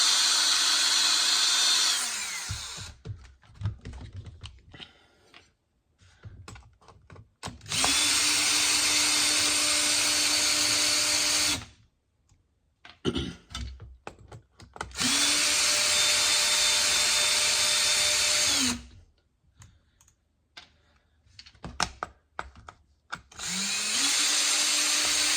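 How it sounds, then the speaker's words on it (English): A power drill backs bolts out of a Traxxas 4-Tec RC car, running in several long, loud steady whirring bursts separated by quieter pauses filled with clicks and handling noise. "So we're going to take those 4 bolts off."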